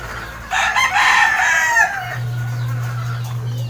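A rooster crows once, loud and near, in a drawn-out call lasting over a second, with a low steady hum underneath.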